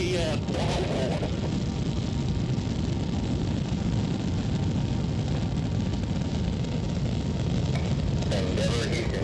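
Space Shuttle Endeavour's engines roar through launch, a continuous heavy broadband rumble that holds steady, with radio voices talking over it.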